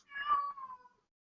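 A single cat meow, clear and fairly close, with a drawn-out falling tail lasting about a second, followed by silence.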